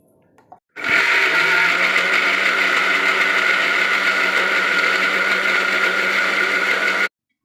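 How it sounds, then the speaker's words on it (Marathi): A kitchen mixer grinder whirs loudly and steadily for about six seconds as it grinds masala with a little water, starting abruptly after a faint clink and cutting off sharply at the end. "परत मिक्सरला फिरवून घ्यायचं."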